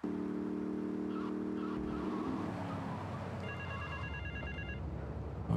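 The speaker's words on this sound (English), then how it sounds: "this mission basically just driving around and answering phone calls" A phone rings in Grand Theft Auto III while a car drives, its electronic trill repeating over a steady engine drone, which deepens and roughens as the vehicle moves on.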